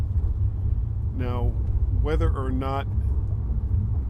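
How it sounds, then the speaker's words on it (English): Low, steady road rumble inside a moving car during a daily drive, continuous throughout under a man's speech. "the background noise you hear from the car"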